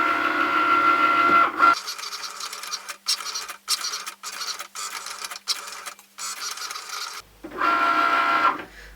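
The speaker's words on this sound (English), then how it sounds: "I'm going to press the go button and let's get this design cut out." A cutting machine slices out an iron-on vinyl design, its motor whirring close by in short bursts separated by brief pauses as the carriage moves back and forth.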